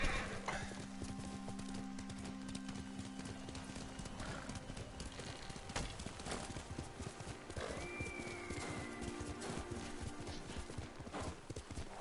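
Horse hooves clip-clopping in the Ghost of Tsushima video game, a steady galloping rhythm running through the whole stretch with a brief whinny midway, heard alone against game ambience.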